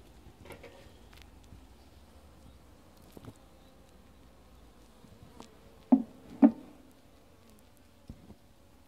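Honeybees at an opened hive during an inspection, a soft steady buzzing hum with a few brief sharp knocks and bumps of frames or tools, quiet and close.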